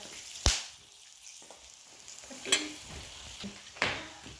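Cinnamon sticks, cardamom, cloves and a bay leaf frying in hot oil in a pan for a fish curry: a soft continuous sizzle with a few sharp clinks and scrapes of stirring, quiet and without talk.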